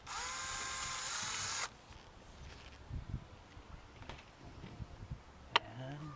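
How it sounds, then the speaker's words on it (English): A power drill whirs loudly and steadily for under two seconds while drilling a center hub cap screw on a 2006 Audi A4 wheel, then stops, leaving quiet clicks and small tool handling noises nearby. "Got a little bit more drilling."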